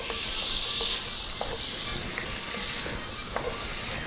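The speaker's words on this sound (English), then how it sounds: "Browning this stuff up pretty good." Sausage browning in a pan for a red gravy gives off a steady, loud sizzle and frying hiss that runs throughout, with faint stirring clicks and no talk over it.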